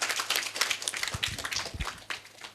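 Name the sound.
audience applauding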